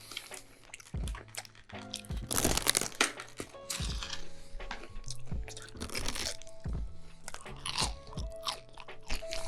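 Repeated close crunching bites and chewing on a crispy Jollibee peach mango pie, with crackling crust and irregular loud crunches throughout.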